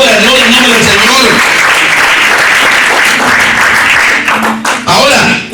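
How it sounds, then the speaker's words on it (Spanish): A church congregation claps loudly during a Spanish-language sermon, continuous close applause with some voices audible underneath, tapering slightly toward the end. "Denle un aplauso a Dios en esta hora"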